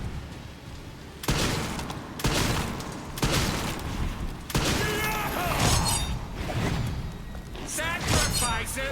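Video game gunfire bursts out in sharp, repeated volleys across a dense battle mix, with a voice talking over the shots.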